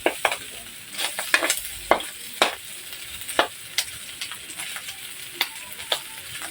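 Pork fat renders in a pan, crackling and popping in sharp irregular bursts over a low steady sizzle, loud and close, with no voices.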